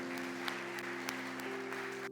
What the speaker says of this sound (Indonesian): Tepuk tangan dulu anak muda.